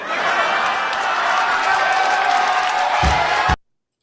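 A stand-up comedy audience roars with dense, sustained applause and cheering that fills the space at a steady loud level, then cuts off abruptly near the end.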